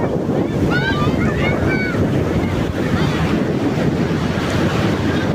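Rough sea at Cox's Bazar beach churned up by a depression: waves roar and break without pause, loud and close, with gusty wind rumbling across the microphone and faint shouts from people in the water.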